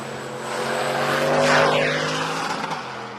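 A V8 engine-swapped Toyota Corona drag racing down the strip, a loud sustained engine roar that swells and sweeps past up close, with no voices over it.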